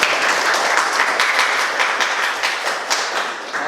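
A classroom group claps together for a few seconds, steady, dense applause from a room full of people, fairly close.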